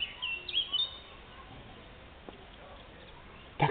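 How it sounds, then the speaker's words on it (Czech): Faint bird chirps in a garden, a few brief high calls early on, then a quiet outdoor background with a small knock near the end. "Ptáci, jak to toho krásně zpívají, slyšíte?"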